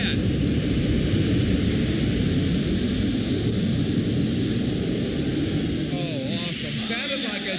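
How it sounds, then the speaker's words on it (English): Twin-turbine tractor at a 1989 tractor pull, a loud continuous jet-like roar with a high turbine whine, holding steady throughout as it runs close by, with a voice talking over it. "Sounded like a jet plane coming in."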